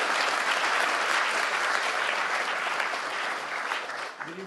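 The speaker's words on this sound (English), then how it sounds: "Round of applause for the Red Bull." A theatre audience at an evening talk with writer Warren Ellis breaks into loud, sustained applause, a thick even roar of clapping that tapers slightly toward the end.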